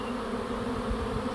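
A swarm of honeybees moving into a backyard swarm trap makes a dense, steady buzzing drone, close and continuous for a brief moment without any voices.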